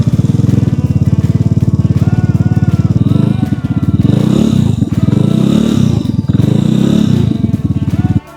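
A Vespa Primavera scooter fitted with a Malossi CVT idles and runs steadily nearby, its engine a continuous buzzing drone that rises and wavers in the middle, then cuts off abruptly at the end.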